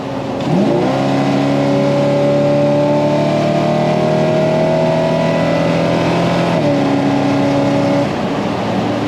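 A carbureted car engine run with fuel additive revs hard at wide open throttle in a sustained pull, loud rising tones holding steady then dropping off near the end, with no voices.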